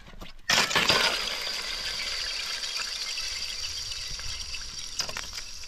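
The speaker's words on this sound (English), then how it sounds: "Picking up frozen water or ice is definitely underrated, especially smashing." Ice on a lakeshore is smashed with one sharp, loud crash near the start, followed by a long rattle of skittering, tinkling fragments and a second smaller impact toward the end.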